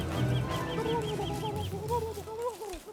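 A turkey in the Don't Starve Together video game gobbles and clucks in quick repeated bursts, a busy chattering bird call running throughout at moderate volume with game sounds underneath.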